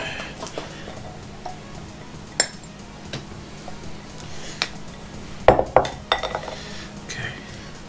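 Eight crushed cookies and a tablespoon of melted butter are combined in a bowl, with scattered close clinks and taps of a utensil against the dish and a louder cluster of knocks midway.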